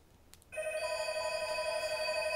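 A telephone starts ringing suddenly about half a second in, then holds as a steady, fairly loud bell-like tone with no talk over it.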